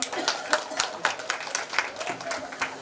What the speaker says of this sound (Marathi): बाबांसाठी जोरदार टाळ्या वाजवायच्या